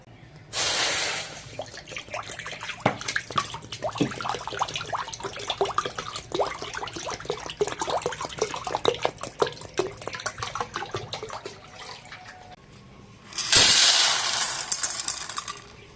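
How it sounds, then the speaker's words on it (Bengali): Dal lentils are washed in water, with sloshing, splashing and small rattling clicks of grains against a bowl, framed by two louder bursts of running tap water at the start and near the end, with no speech. "ডালটা জল দিয়ে ভালো করে ধুয়ে নেব"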